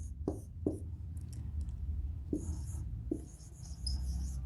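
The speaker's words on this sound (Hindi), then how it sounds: "एक सेंटेंस और मैं लिखता हूं।" Marker or chalk strokes on a board as a sentence is written, several short scratchy bursts spaced unevenly over a quiet room hum, fairly close but soft.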